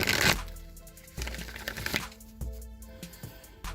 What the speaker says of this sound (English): I'm going to give this deck 3 shuffles